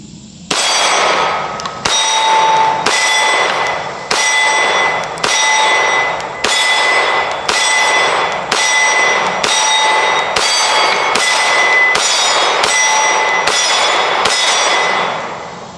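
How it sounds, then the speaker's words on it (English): An FN Reflex MRD micro-compact pistol fires at steel targets, about a dozen sharp shots at an even rhythm, each followed by a bright ringing clang of struck steel, loud and close, no talking. "I'm gonna go at steel first, just because I want to get a feel for this trigger and everything before I shoot that Texas Star"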